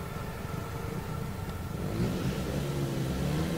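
A speedway motorcycle engine in FIM Speedway Grand Prix 15 idles, then revs up partway through, its rumble growing louder and holding at the higher pitch.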